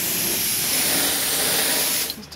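Steady broadband hiss of a paint spray gun laying primer on a 1969 Camaro in a backyard garage, continuous and close, cutting off just before the end.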